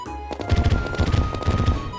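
Rapid burst-fire gunshots from a weapon in Terraria with the Calamity mod, several quick bursts of punchy shots repeating in groups over a game soundtrack, loud and close.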